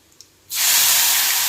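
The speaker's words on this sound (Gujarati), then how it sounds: "વઘાર પાડી દઈશ।" A hot tempering of mustard seeds, cumin and red chili poured into moong dal for a Gujarati dal bursts into a loud, sustained hiss after a brief quiet moment, close and steady.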